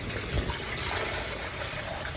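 Water splashes and gurgles steadily into a container, with a continuous bright trickling sound.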